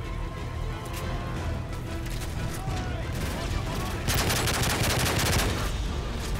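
Gunfire crackles in the video game Call of Duty Modern Warfare 3, with scattered shots giving way to a denser burst of rapid fire partway through, layered over game noise and a voice.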